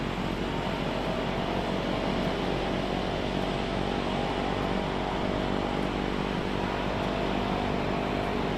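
Propeller aircraft taxiing at high idle in Microsoft Flight Simulator 2024, a steady loud droning engine roar that holds constant with no breaks and no talking.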